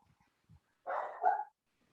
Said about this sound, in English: I think it's a cat in front of my house. That's why he's barking.